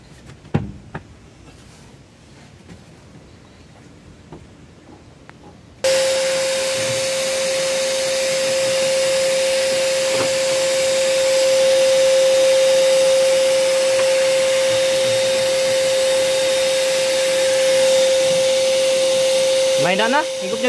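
A vacuum cleaner with weakening suction switches on while cleaning a dirty van, a sudden loud, steady whining roar with a sustained tone that runs to the end after a quiet start with faint background sounds.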